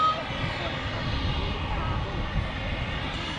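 A Scandinavian airliner taxiing out at Manchester Airport gives off a steady, continuous jet engine drone from a distance, with faint voices nearby.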